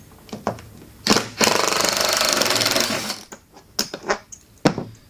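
A power tool driving out a big, long screw with a massive washer from a wooden amplifier crate: short loud mechanical bursts, then a sustained rattling whirr of about two seconds, followed by a few more quick clicks and bursts.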